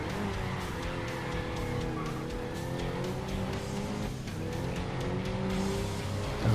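Race cars in the video game Grid Legends roar around a track, engines droning and shifting pitch continuously with tire squeal, loud and close, with no speech.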